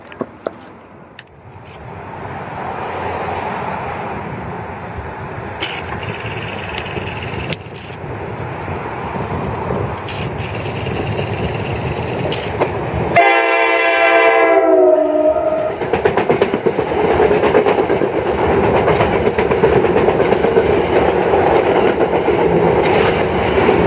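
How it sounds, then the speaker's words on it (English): An NJ Transit ALP-46A electric locomotive, number 4635, on a North Jersey Coast Line train to Long Branch passes through Woodbridge, New Jersey. It rumbles loudly and close, with a sustained horn blast partway through and a continuous rolling rail roar. "Jersey Transit ALP 46A number 4635 running on train number 3267, heading to Long Branch, passing through Woodbridge,"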